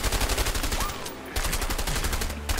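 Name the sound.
gunfire in the video game A Way Out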